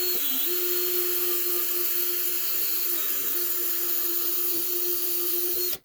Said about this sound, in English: let's see what we can do with the flapper wheel here.